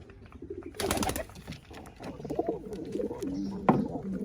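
Pigeons in a nest give soft, low coos close by, with a brief burst of rustling or fluttering and a few scattered calls in a quiet room.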